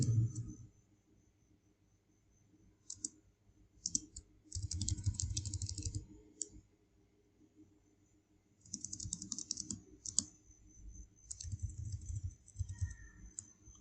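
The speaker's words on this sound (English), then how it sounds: "press and hold shift and press the minus key on your keyboard" A computer keyboard is typed on in short clattering bursts, repeated key presses close up and crisp, separated by quiet pauses, with no talk.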